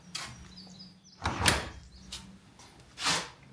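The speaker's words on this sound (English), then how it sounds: "Now close the door." A door on an off-grid home is pushed shut, giving a few soft sliding, thudding knocks close by, with brief rustling between them and no talk.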